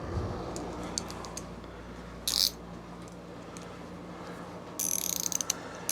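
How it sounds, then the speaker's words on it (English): A quarter-inch drive ratchet works on a Briggs V-twin engine that won't start, giving short clicking runs and two brief louder bursts of rapid ratcheting over a faint background hum. "Quarter shallow, 1/4 inch drive ratchet."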